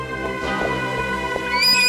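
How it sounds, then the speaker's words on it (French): Horse whinny rising over a steady, layered background, with a bright high neigh near the end; no clear hoofbeats, the sound sits close and fairly loud with no talk. "D'un bond, Rodrigue remonta sur son cheval et les 3 hommes partirent au galop."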